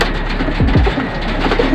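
Racing pigeons coo low and close in a brief soft call amid steady loud background noise.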